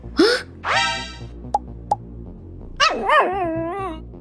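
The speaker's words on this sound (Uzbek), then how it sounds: "ojon, kuchuklar qoldilar" Puppies close by give a few sharp yips and drawn-out whining yelps, separated by two short clicks and brief pauses, loud and alone with no talking.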